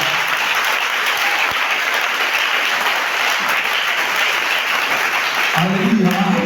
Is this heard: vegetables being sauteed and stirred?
no